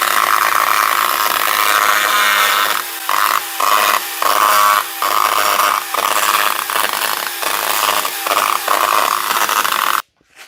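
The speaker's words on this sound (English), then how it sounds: "I got myself a chainsaw." A chainsaw engine runs loud and close, a steady buzzing roar broken by brief rhythmic dips as if cutting, stopping abruptly near the end.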